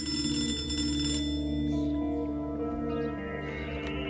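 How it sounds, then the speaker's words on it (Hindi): An in-game telephone rings repeatedly in a horror game, a bright electronic tone with echoing reverb over a sustained eerie musical drone. "फोन कब से बज रहा था वैसे, किसका कॉल आ रहा है इसमें?"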